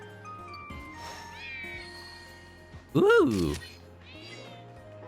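A Sneasel Pokémon cry from New Pokemon Snap, a sharp, loud, cat-like meow in the middle, set among quieter game sounds and a person's voice.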